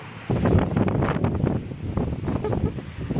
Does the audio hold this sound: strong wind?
yes